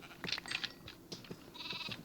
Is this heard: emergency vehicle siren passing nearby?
no